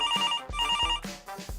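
A telephone rings with an electronic ringtone, loud and close, in repeated bursts of a bright warbling tone separated by short gaps, with no talking over it.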